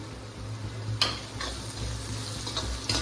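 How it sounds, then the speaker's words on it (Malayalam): Onion sautés in hot oil with green chili, ginger and curry leaves for chicken biryani, a steady close sizzle broken by several scraping stirs of a spoon in the pan. "നമുക്ക് അതിലേക്ക് പച്ചമുളകും ഇഞ്ചിയും ചേർത്ത് കൊടുക്കുക."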